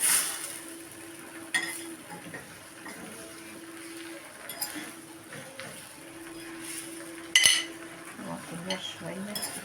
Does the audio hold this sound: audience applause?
no